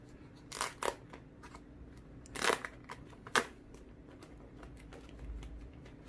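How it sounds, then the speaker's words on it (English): Plastic wrapping comes off a Samsung Galaxy Tab S7 LTE tablet in Mystic Black. There are a few sharp crinkling rustles, with quieter handling between them. "now time to unwrap this tablet."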